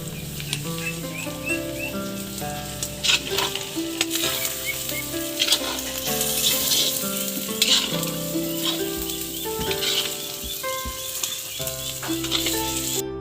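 Ground spices sizzling loudly in hot oil in a pan, with continuous crackling fry and intermittent stirring scrapes, while melodic background music plays throughout.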